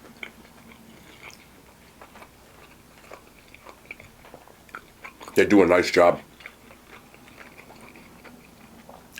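Crunchy sushi pizza topped with tempura flakes and imitation crab, chewed close to the mic at an Asian fusion restaurant: a brief burst of loud crisp crunching, with someone talking quietly before and after.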